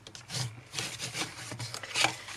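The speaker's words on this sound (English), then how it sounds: "now I'm gonna burnish these ones down as well" Paper being burnished down by hand while making a mini folio, heard as soft, uneven rubbing strokes in short bursts, close and quiet.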